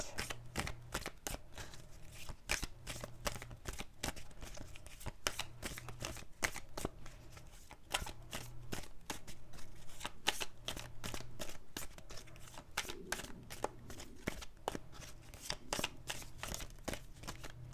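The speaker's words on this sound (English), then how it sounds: "Two more shuffles, please." Tarot cards shuffled by hand in a steady run of crisp, riffling slaps and flutters, close and fairly quiet, with no voice.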